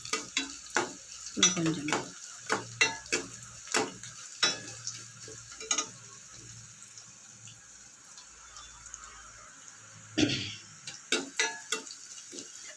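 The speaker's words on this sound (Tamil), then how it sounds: "பொன்னிறமாக வதக்கணும்னு இல்லை, ஓரளவுக்கு வதங்கினா போதும்." Eggplant for chutney sautéing in a pan, a soft continuous sizzle broken by bursts of spatula scraping and stirring, close by, with a brief spoken word near the start.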